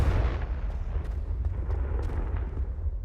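A Confringo spell explosion in the video game Hogwarts Legacy, a loud, deep, rumbling blast with a few sharp cracks on top, close and continuous for the whole moment.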